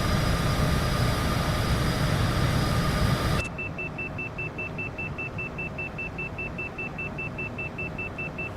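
A steady overspeed warning tone beeps repeatedly in the Cj4 Citation PC flight simulator during a night flight. It sounds alone after loud engine and wind roar cuts off.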